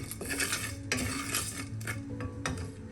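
Whole spices dry-roasting in a hot kadai over a medium flame, with continuous close scraping and metallic clinks as a spoon stirs them against the pan.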